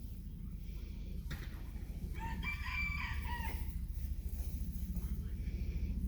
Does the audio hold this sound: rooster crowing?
yes